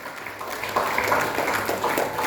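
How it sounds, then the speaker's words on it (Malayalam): An indoor audience at a Lions Club induction in Naduvannur claps for newly inducted members, a moderately loud, steady patter of many hands that swells slightly partway through over a low hum. "നല്ലൊരു കൈയടി."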